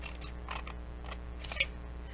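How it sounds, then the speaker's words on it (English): Scissors cutting through a paper envelope along a score line, heard close up as soft rhythmic snips and crisp paper slicing, ending in one sharper snip, in a quiet room. "I'm going to cut right down this side of the score line on the pocket side"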